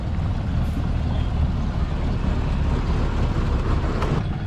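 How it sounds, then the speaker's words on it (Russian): A steady, loud low rumble of a tourist boat engine moving across Tonle Sap lake, with constant churning wash and no voices. "Еще одна туристическая лодка."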